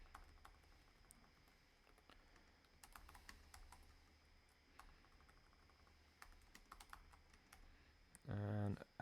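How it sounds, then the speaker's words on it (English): Faint, scattered keystrokes clatter on a computer keyboard in irregular bursts. A short louder sound comes near the end. "I'm going to type it somewhere where I have VI keys"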